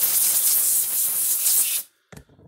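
WD-40 sprays from a can onto the circuit board of a Stafix x18i fence charger in a close, loud hiss lasting nearly two seconds, then cuts off, followed by a brief small knock.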